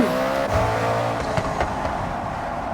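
Car engine revving hard in the Forza Horizon racing game, an eight-gear hypercar accelerating with rising engine tones and brief shifts, loud and close with a faint tire squeal.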